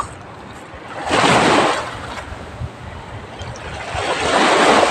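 Surf rolls in and washes up the shore in broad swells at high tide, with steady wind noise over the microphone and no voices.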